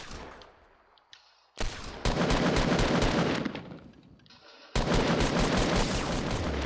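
Automatic gunfire from the video game Fortnite rattles in loud sustained bursts, two long volleys separated by a brief lull, after quieter scattered game sounds at the start.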